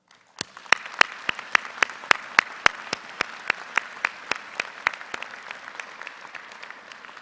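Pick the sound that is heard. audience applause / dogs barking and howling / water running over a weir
audience applause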